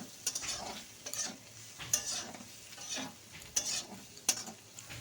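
Garlic paste with cumin and coriander powder sautés in a pan, soft frying hiss broken by repeated close scraping stirs with a spoon, about one every second, quiet and without speech.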